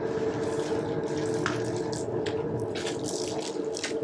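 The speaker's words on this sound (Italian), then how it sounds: "L'acqua va messa poco alla volta, mai tutta insieme." Water poured gradually into Neapolitan pizza dough during mixing, a faint steady trickle of running water with no talking.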